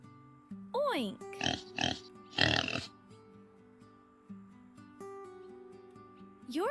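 Close pig oinks and grunts come in a quick series of snorty bursts, set against gentle background music with a sliding voice-like tone at either end.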